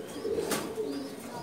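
A pigeon in a Dhaka loft gives a quiet, low, rolling coo at close range, a short murmuring call over faint background noise.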